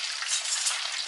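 Chicken wings frying in oil in a pan, a dense, continuous crackling sizzle heard close up, steady and alone without talk.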